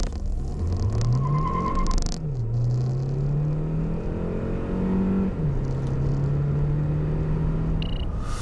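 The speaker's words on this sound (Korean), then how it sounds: "그렇다면 발진 가속 성능 얼마나 되는지 볼까요?" A Hyundai Santa Fe Hybrid launches hard from a standstill with some wheelspin, its engine climbing steadily in pitch, dropping at each gear shift and rising again, loud and close over constant road and wind rumble.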